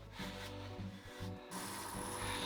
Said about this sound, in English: Bit of Yorkshire Grit, which I'm going to buff up.